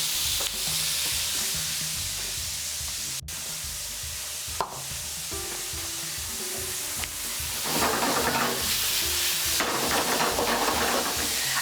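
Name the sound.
halloumi cheese frying in a pan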